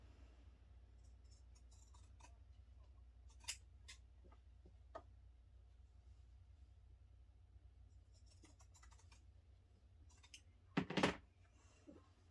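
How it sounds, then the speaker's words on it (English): Scissors snip the outside corners off a fabric quilt block in a quiet room, with a few sparse, soft clicks followed by a louder cluster of close cuts near the end. "And then you're going to trim the outside corners off again."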